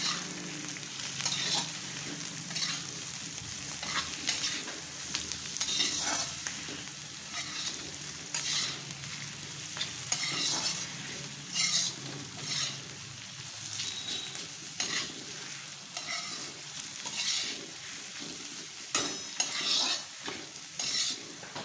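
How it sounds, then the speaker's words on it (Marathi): Cooked radish leaves seasoned with chilli powder and salt sizzle in a pan while a spatula stirs and scrapes steadily, a close, continuous frying hiss with rhythmic stirring strokes. "आता हे चांगलं परतून घेऊया"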